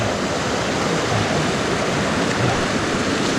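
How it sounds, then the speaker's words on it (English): A fat bike ploughing through deep water after a rainstorm in a canyon, heard as a continuous loud, broadband rushing splash with no pauses or talk. "Splash, splash."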